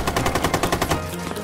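Rapid automatic gunfire in Rainbow Six Siege: a loud, close burst of about ten evenly spaced shots lasting roughly a second, then cutting off into a brief reverberant tail.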